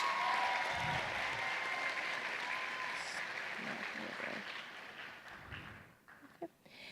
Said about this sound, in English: Please give a round of applause for Terry Bunch.